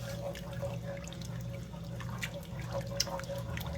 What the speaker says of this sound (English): I'm gonna add the rest of that water in that cup in there.